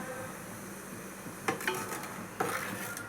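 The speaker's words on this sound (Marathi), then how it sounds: "हे मी एका हाताने टाकणार आहे आणि एका हाताने ह्याला हटणार आहे" Kurdai batter is stirred by hand in a pot over a low flame, giving a soft scraping bed with a few sharp clinks against the pot, quiet and with no voice.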